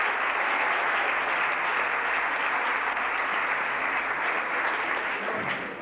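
Steady, dense applause from a stage-show audience in 1987, following a beautiful number by a performer, sustained at even strength throughout without voices and tapering slightly at the very end.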